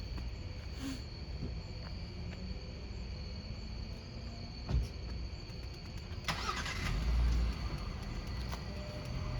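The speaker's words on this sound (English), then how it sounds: "I'm just gonna move my car." A car engine cranks and starts about six seconds in, rising to a steady running rumble, while insects chirp continuously in the background outdoors.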